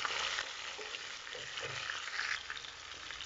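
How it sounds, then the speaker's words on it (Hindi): Boneless chicken frying with onions in a pan for a chicken and bitter gourd dish, a soft, steady sizzle with light crackling, fairly quiet and close, with no voices over it. "और ये मेरे पास बोनलेस चिकन है, इसको भी बस 1 मिनट के लिए हम फ्राई कर लेते हैं।"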